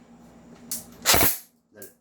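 An M4A1 replica gun fires a single sharp, close shot, followed by a brief faint second pop, in a quiet setting.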